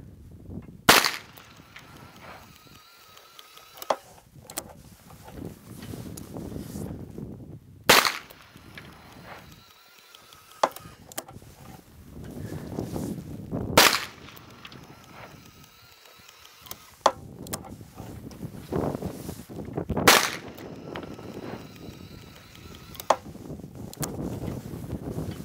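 A Colt Python .357 Magnum revolver fires five handloaded rounds, each a sharp, loud crack spaced several seconds apart, with a quieter outdoor background between shots.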